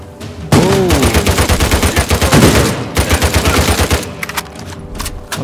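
Shotgun fire in the Uncharted 4 video game, a loud burst of rapid repeated gunshots and blasts that starts abruptly, runs densely for several seconds, then breaks into scattered shots near the end.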